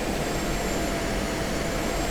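Steady, loud F-16C Viper jet engine roar in the DCS flight simulator as the jet levels off in the landing pattern, a continuous broadband rush with a faint high whine, no talking.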